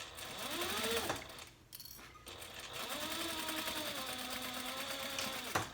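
A sewing machine closes up a handbag lining with a steady, nearby whir that breaks off briefly, then resumes in a longer, even run ending with a small clunk.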